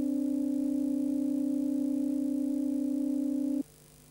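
A sustained discordant chord of steady, clashing tones rings at an even level for about three and a half seconds, then cuts off abruptly, leaving only a faint low remnant.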